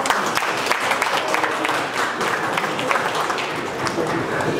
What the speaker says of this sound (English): I think you deserve a round of applause for yourselves